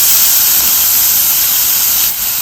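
Green chilli, garlic and grated ginger hit hot oil in a pan, giving a loud, close, continuous sizzling hiss that holds steady and dips slightly near the end.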